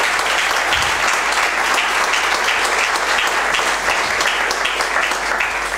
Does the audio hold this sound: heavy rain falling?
no